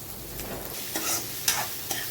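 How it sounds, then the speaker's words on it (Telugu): Four chopped onions frying in oil in a kadai, a soft sizzle with a few scraping stirs of a spoon, close and fairly quiet. "ఫస్ట్ మనం 4 ఎర్రగడ్డలు చిన్న చిన్న ముక్కలుగా కట్ చేసింది ఇందులోకి వేసి వేయించుకోవాలి."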